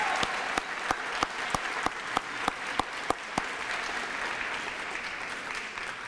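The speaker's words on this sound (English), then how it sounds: "I'd like to give everyone a round of applause for all of our students" A school crowd applauds its high school students with sustained, even clapping, while one nearby person's sharp, regular claps stand out clearly above the rest for several seconds.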